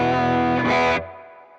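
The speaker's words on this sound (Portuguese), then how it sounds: "Agora eu posso ter um som limpo, que quando eu troco para distorção eu não perco a cauda." An electric guitar through a Valeton GP-5 multi-effects unit plays a dense distorted chord that swells brighter, then cuts off, leaving delay repeats that fade out.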